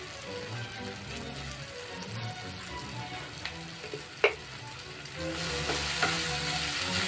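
Chili powder and spices frying in oil for an olive barb fish curry, a steady close sizzle with scraping stir strokes and a sharp clink near the middle, the frying growing louder toward the end.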